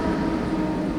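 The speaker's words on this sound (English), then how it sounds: "Wait, is that our train?" A Swiss train rumbles steadily nearby with a continuous low mechanical roar.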